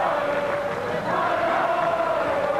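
A Norwegian crowd shouts and roars continuously in the stands at a 2003 World Championships beach volleyball match in Rio, a dense wash of voices with one sustained rising cry.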